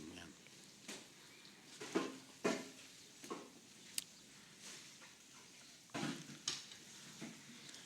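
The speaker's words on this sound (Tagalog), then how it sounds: "ating papanoorin kung paano po ba ang tamang proseso ng pagluluto ng masarap na" Popcorn cooking in a pan at home, giving scattered sharp pops and rattles at irregular intervals over a faint hiss. Several distinct louder pops are spaced a second or so apart.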